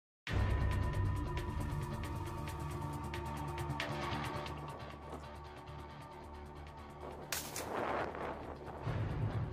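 New-generation Chinese high-precision sniper rifle firing at an egg outdoors in strong, freezing wind of about 10 m/s: gusty roar and crackle throughout, with one sharp, loud report late in the stretch.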